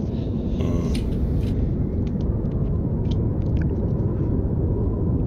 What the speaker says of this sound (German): Ich hoffe, dass der Sturm uns nur streift.